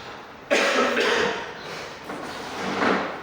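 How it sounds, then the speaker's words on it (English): A sharp, raspy cough from a weeks-long cough bursts out, followed by a second rougher cough a moment later, close and fairly loud with no talking. "I've been having this cough for almost 3 weeks now"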